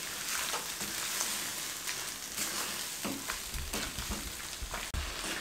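Egg masala pasta sizzles in a pan over a medium-low flame while being tossed, a dense continuous frying hiss with soft scraping and shuffling strokes throughout.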